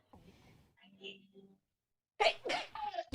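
A single sharp sneeze bursts out after some quiet talk, followed by more talking right away.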